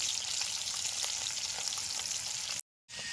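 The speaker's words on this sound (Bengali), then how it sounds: "ভাজা হয়ে গেছে, এবার তুলে নেব একে একে।" Small freshwater fish fry in hot oil with a close, steady sizzle and crackle, cut by a sudden brief silence before the sizzling resumes.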